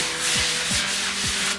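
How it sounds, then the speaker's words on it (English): Steady abrasive rubbing of a sanding tool worked in circles across a ceiling, a continuous close scratchy hiss with a swelling rhythm roughly every half second, no voices. "When you're sanding, sand in circles."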